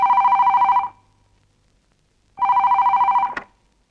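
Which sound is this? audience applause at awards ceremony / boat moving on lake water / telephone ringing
telephone ringing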